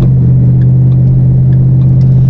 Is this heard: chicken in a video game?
no